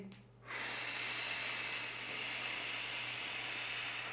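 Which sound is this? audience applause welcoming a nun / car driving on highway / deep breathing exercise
deep breathing exercise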